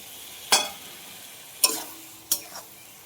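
Eggplant sautéing in mustard-poppy paste: three distinct spatula scrapes against the pan stand out over a soft, low sizzle, close and fairly quiet, with no talking.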